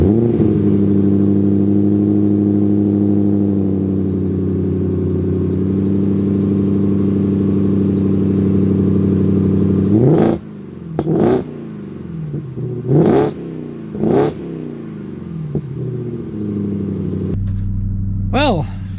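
A 2025 Ford Raptor R pickup truck's V8 engine rumbles steadily as it drives, then revs and accelerates in several sharp bursts near the end, heard from inside the cab with some voices over it.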